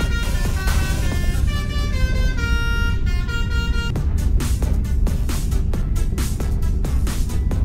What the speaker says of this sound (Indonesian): Nyingkir-nyingkir lah kalau klakson.